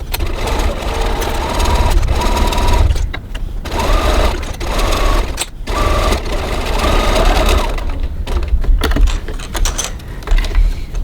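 A sewing machine stitches a hip cross body bag in bursts of rapid whirring runs, loud and close, separated by short pauses where the fabric is repositioned.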